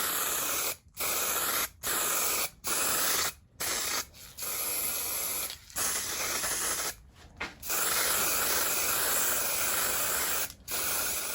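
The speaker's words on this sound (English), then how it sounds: "So the sandblaster worked like a champ, which is great because often it doesn't." Sandblaster blasting classic MGA car parts, including a brake master cylinder: a loud, steady, close hiss in long bursts, broken by several short pauses, with no talking.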